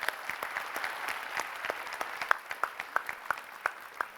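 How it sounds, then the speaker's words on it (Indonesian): Sparse, scattered clapping from a seated talk-show audience applauding host Najwa, individual claps distinct and fairly quiet at a moderate distance, with no speech over it. "Tolong tepuk tangan untuk Najwa."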